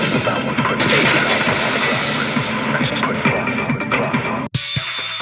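Vase shattering as a sound effect in a courtroom-trial video game, a loud sustained crash of breaking glassy ceramic with clinking debris, ending in an abrupt cut to a different bright tone.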